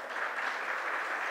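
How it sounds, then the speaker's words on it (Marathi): An audience at a Women's Day program applauds children arriving on stage, a dense, even wash of clapping that holds steady for its whole short span. "चला तर मग या छोट्या दोस्तांचं टाळ्या वाजवून स्वागत करूया."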